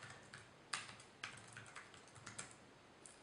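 Quiet, irregular clicking of keys on the physical keyboard dock of an ASUS Eee Pad Transformer tablet, soft taps heard close up with no talk.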